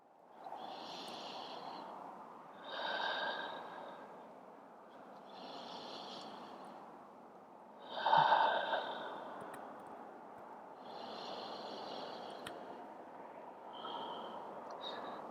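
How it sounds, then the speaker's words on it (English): Slow, deep breaths during a yoga forward fold, audible inhales and exhales repeating about every two to three seconds, close and soft, with one louder breath midway. "Take a few deep cleansing breaths here."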